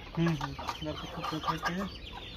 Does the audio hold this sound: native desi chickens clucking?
yes